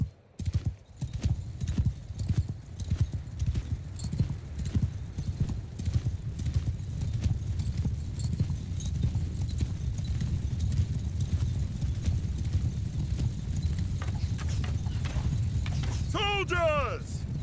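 Many horses' hooves clip-clop steadily and densely in Mount & Blade: Bannerlord as a mounted army moves, with a continuous rumbling bed of hoofbeats, brief whinnies and game sounds near the end.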